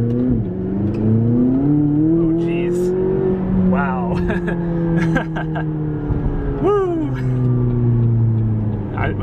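A car engine accelerates hard from inside the cabin, a loud steady drone whose pitch climbs and eases over several seconds, with people talking over it.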